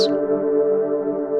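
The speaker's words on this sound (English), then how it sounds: "It's very easy to completely overdrive the filter." A thick, buzzing synthesizer tone drones steadily, harsh and saturated from a filter overdriven by two oscillators at maximum, loud and unbroken after a brief bright attack.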